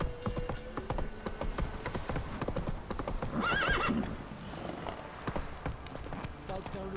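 A horse gallops with rapid, close hoofbeats and lets out a brief neigh partway through in The Witcher 3: Wild Hunt, while a voice talks over the action.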